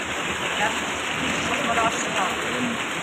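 Steady, continuous rain pours down, a dense hiss throughout, with faint voices murmuring beneath it.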